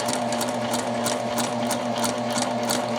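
A sewing machine stitches bias tape onto a garment neckline with a number 2 stitch, giving a steady, fast mechanical whir with regular ticking needle strokes, close and loud, with no talking.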